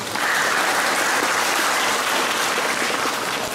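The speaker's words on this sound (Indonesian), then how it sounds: "Tepuk tangan untuk kalian semua." A Scout seminar audience breaks into loud, dense applause, a sustained even roar of many hands clapping at close range with no talk over it.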